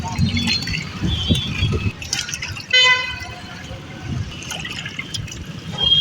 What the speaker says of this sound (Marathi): हे चार किलो चिकन आपण धुवून घेत आहोत